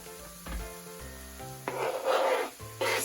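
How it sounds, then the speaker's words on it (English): Raw smashed garlic going into a hot pan, giving a soft, quiet sizzle with scraping and stirring sounds and low hum, the frying swelling briefly louder in bursts. "I'll put my garlic in next because it is raw and I'll have to cook it a little longer"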